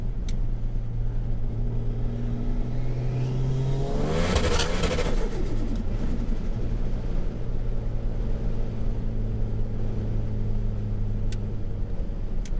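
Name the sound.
Ford Falcon AU turbo engine revving in bursts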